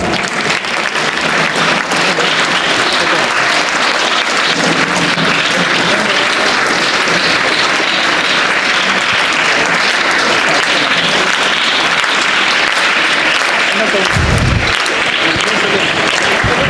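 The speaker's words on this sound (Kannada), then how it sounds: "ಚಪ್ಪಾಳೆ ಹೊಡ್ರಪ್ಪ." Sustained audience applause at a school youth gram sabha ceremony, a loud dense wash of clapping from many hands lasting the whole stretch, with a brief low thump near the end.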